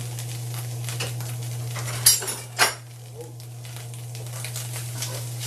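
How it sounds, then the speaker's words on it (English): Big chunks of garlic sautéing in a pan for a spicy pork rice bowl, a quiet sizzle under a steady hum, broken by two sharp clinks of a utensil against the pan. "I just want to kind of get these going, saute these up"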